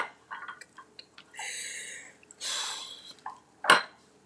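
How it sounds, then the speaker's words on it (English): A chopstick stirs a chaffle batter of egg and cheese in a bowl, making a series of close, irregular clicks and scrapes. Short swishing bursts sit between them, and one sharper clink comes near the end. "I'm just going to use my chopstick or any metal utensil and stir it up"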